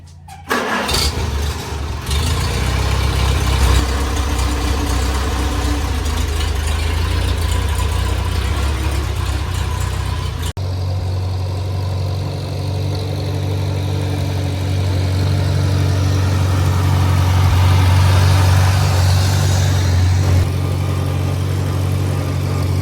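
An old tractor engine cranks and catches, then runs loud and close with a steady low rumble that shifts to a deeper, smoother drone about halfway through.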